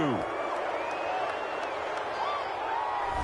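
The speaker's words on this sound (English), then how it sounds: "this crowd does not like that call" Stadium crowd in a video game football broadcast reacting to a penalty call, a steady loud roar of many voices with sustained booing-like swells throughout.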